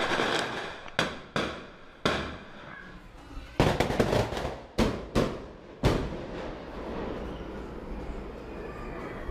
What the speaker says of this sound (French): Le bruit, c'était à nouveau des tirs de mortier pour dire que nous sommes là.